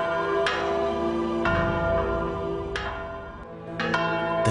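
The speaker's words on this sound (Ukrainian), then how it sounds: "тепер сюди мирних прихожан скликають до нового храму старі благовісти" Old church bells ring loud and close, with repeated strikes at irregular intervals whose overlapping tones keep sounding throughout.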